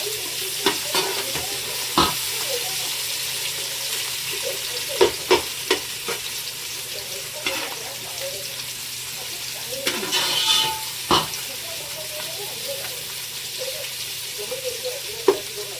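Onions for chicken biryani sizzle steadily in a pan while a spoon stirs and scrapes them in irregular clacks, close up, with occasional brief voices underneath.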